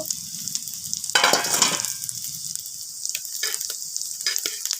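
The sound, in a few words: lentil fritters (masoor dal bora) frying in a pan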